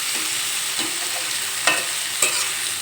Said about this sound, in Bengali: ঢাকনা তুলে একটু নেড়ে ফেড়ে নেব যাতে কড়াইতে লেগে না যায়